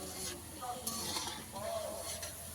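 Jackfruit seed snacks frying in a pan are stirred, giving a soft, close scrape over a faint, steady sizzle of hot oil.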